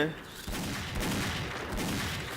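Gunfire rattles in the shooter game X-Shot as a fairly quiet, continuous barrage of overlapping shots, with a voice talking briefly near the start.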